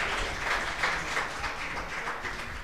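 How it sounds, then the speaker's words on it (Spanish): Church congregation clapping together in a dense, sustained round of applause that fills the room at moderate level, with a faint murmur of voices beneath. "Colócate sobre tus pies y dale un aplauso al que vive por los siglos de los siglos."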